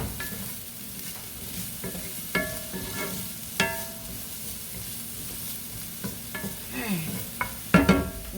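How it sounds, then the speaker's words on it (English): Vegetables for cheese steak empanadas sauteing in a pan over lowered heat, a soft steady sizzle with occasional clinks and scrapes of a utensil stirring, a sharper clatter near the end. "Get these sauteed up."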